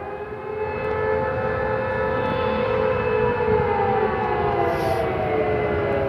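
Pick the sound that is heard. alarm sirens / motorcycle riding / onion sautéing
alarm sirens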